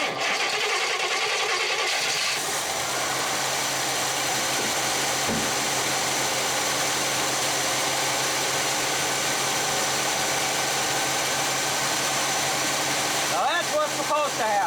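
Big-block 1966 Chevy Biscayne engine cranks and catches near the start, then settles into a steady, loud idle with a constant mechanical hum throughout, rising briefly near the end.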